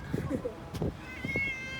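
A cat meows several times in short, close calls, with a higher drawn-out mew near the end, while a person talks excitedly over and between the meows.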